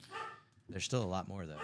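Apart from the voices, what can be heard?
dog barking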